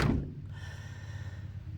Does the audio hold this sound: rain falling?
no